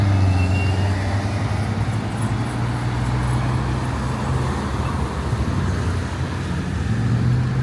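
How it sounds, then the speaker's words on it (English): Toronto city bus on route 36 approaching along Norfinch Drive, its low engine drone swelling over steady roadside traffic noise, close and continuous, with no talking. "here comes my bus. Yep, that's the 36"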